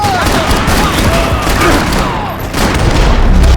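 Dense gunfire in the Max Payne 3 video game, a loud continuous barrage of overlapping shots with rumbling booms that runs throughout.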